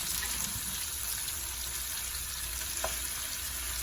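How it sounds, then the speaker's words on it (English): Curry goat frying with seasonings in a pot, giving a steady, soft sizzle and hiss throughout with a couple of faint clinks of stirring, close and alone with no talk. "Fry it a little."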